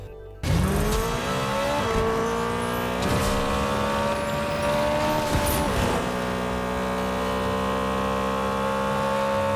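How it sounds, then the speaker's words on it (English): A car engine in Fortnite starts up and holds a steady, harsh droning rev, loud and close, with a few brief accelerations and gear shifts along the way. "The engine sounds a bit harsh."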